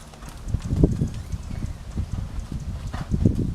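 Hooves of a black Swedish Warmblood stallion trotting, a steady near two-beat clip-clop with soft thuds, heard alone without talk.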